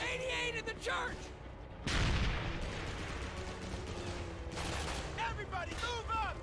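In Call of Duty 2, a German 88 gun fires from a church amid a World War II battle: heavy booming blasts and crackling gunfire, with shouted voices between the shots.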